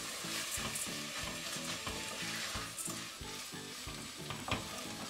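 Washed rice and stuffing for olive-oil stuffed vine leaves sauté quietly in a pan, with a low sizzle and a steady rhythm of repeated spoon scrapes and stirs.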